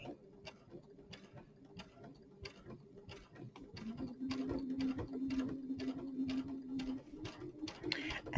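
A sewing machine stitches in the ditch across a quilt wall hanging, a quiet, rapid mechanical clatter with a humming motor that swells louder midway.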